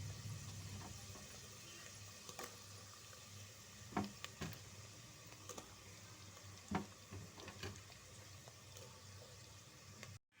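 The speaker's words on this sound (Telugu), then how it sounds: "ఉల్లిపాయలు వేసేసి ఫ్రై అవనిద్దాం" Onions and boiled potatoes fry in a pan with a faint, steady sizzle, broken by occasional soft scrapes and clinks of stirring.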